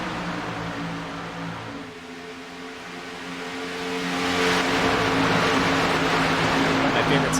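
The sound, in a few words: race cars passing by in iRacing video game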